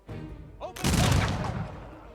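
Troops in the strategy game Humankind open fire, a dense burst of massed gunshots crashing in after a brief lull and rumbling on as a loud volley that slowly fades.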